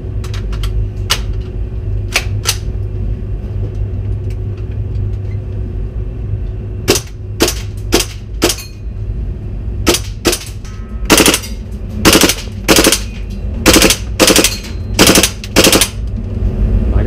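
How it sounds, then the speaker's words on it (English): A gas-operated WE L85 airsoft rifle fires in loud, sharp bursts and single shots with mechanical clacks, close by over a steady background hum, with no talking. "This one's operated by gas. So the mechanism all functions every time you pull trigger."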